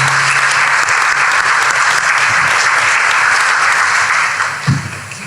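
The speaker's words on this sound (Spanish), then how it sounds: "Pido por favor un caluroso aplauso de bienvenida" Sustained applause from a large audience at a lecture welcoming a speaker fills the room, steady and loud, tapering off near the end with a few last claps.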